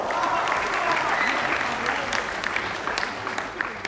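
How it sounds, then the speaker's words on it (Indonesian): A seated audience at an Indonesian youth leadership event claps continuously, a steady dense wash of applause from a sizable crowd heard close and loud throughout. "Tepuk tangan buat Anda semua."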